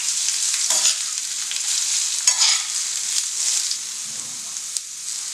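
Chopped beetroot squares sizzle steadily in a pan while being stirred, with a few scraping clatters of the spoon against the metal, close and fairly loud, no talking.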